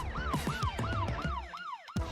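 Police car sirens in Brooklyn wailing in fast repeating sweeps up and down, loud and close with traffic noise beneath, the cycle cutting off abruptly near the end.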